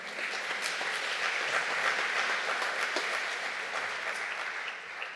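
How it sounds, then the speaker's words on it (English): Congregation at a worship service applauding, dense, even clapping from a room full of people that holds steady at moderate loudness, then eases slightly toward the end. "It was, yes, you can applaud for that."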